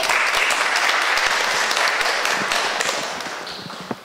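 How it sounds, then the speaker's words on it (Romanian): Audience at a reading event giving sustained applause, a dense, even roar of many hands that gradually thins and fades over several seconds. "Vă rog să o întâmpinăm cu aplauze pe minunata Mihaela Paraschivei."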